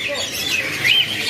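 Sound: small caged birds chirping at a bird market

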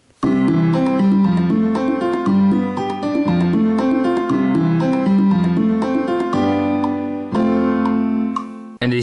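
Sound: GarageBand piano chords for a remix

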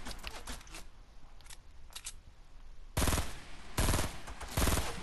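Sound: gunfire in the video game Fortnite

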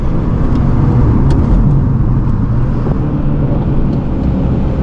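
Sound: sports car accelerating away on a Colombian street

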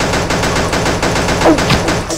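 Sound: gunfire in the video game Pixel Gun 3D

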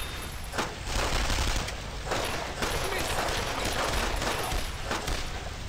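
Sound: gunfire from shooting enemies in video game Brothers In Arms

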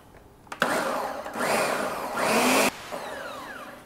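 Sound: blender liquefying egg loaf batter with hot sauce

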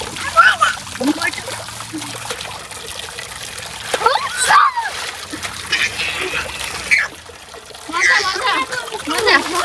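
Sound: baby splashing water during a bath

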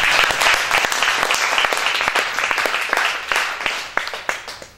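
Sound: congregation applauding in church

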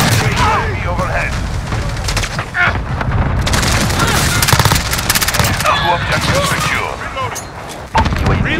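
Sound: gunfire in Call of Duty video game

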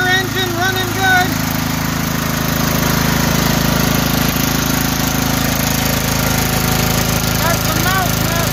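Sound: Cub Cadet donor engine running in Ariens zero turn mower

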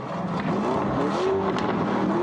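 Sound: V8 car engine revving

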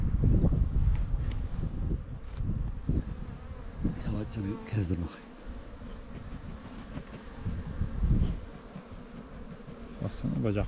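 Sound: bee buzzing, pollen on its legs

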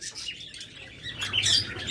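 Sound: chirping of young pet birds, budgerigar and lovebird chicks

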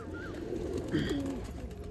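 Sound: pigeon cooing

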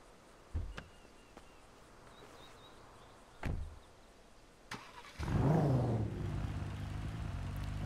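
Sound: police car door and engine idling, video game GTA V mod

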